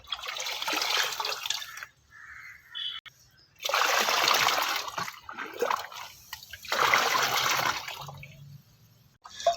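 Water sloshes and splashes in three bursts separated by pauses, as water is poured and stirred to dissolve a homemade plant bio-fertilizer in a container nearby.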